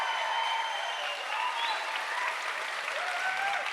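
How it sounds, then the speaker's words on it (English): Dense applause from a science slam audience at Berlin Science Week fills the hall steadily throughout, with a few cheers and whoops rising above the clapping. "How does a stage 10 applause sound like tonight?"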